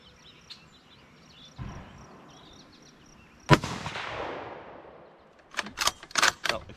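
Rifle shots from a Ruger American Predator in 6.5 Grendel at an outdoor range: a loud close report with a long echoing decay mid-clip, a softer earlier thump, and several sharp clicks and knocks near the end.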